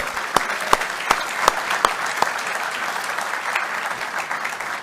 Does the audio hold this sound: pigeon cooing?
no